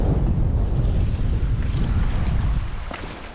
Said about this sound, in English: That wind is really blowing now.